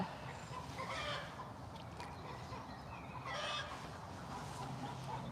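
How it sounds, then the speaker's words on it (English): Backyard chickens cluck and murmur at low volume, with a few louder squawks over soft steady background noise, no talking. "She's just gone hassling those chickens."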